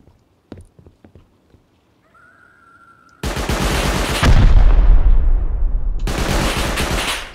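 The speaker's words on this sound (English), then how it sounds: "Okay, I'll shoot it then." Gunfire in the survival video game Rust: a few faint clicks and steps, then loud, continuous bursts of rapid shots that fill the rest of the moment, with a brief pause before the firing resumes.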